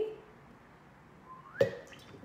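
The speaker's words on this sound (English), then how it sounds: "I splashed myself." A bouncy ball drops into a container of water during a float-or-sink demonstration, giving one sharp, close splash that rises out of a quiet room and leaves a short trickle and drip afterward.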